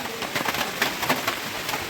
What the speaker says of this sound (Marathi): जबरदस्त पाऊस आहे, जबरदस्त पाऊस